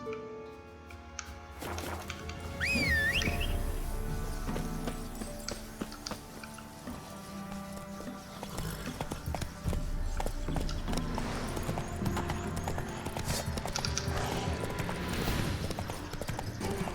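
Horse hooves clip-clopping in The Witcher 3, a steady trotting beat under game music and ambience with a brief tonal whistle early on, no talk.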